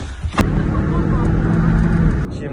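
A car in a village evacuation runs steadily with a mid-pitched engine drone, a sharp door-like thud near the start and a click near the end, heard close throughout.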